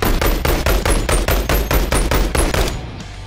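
A rifle with a drum magazine fires in Boneworks VR in a fast, steady automatic burst of about a dozen loud, close shots, then stops, leaving a short fading tail.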